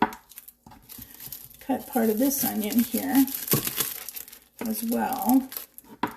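Knife slicing an onion on a kitchen board, crisp crunchy cuts in short bursts near the mic, with a voice speaking briefly between them.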